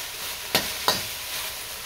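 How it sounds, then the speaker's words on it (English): Broccoli cooking in a pan gives a steady, moderate sizzle with two sharp scraping or stirring clicks partway through, no voices. "So I'm gonna cook my broccoli for about 4 minutes in here."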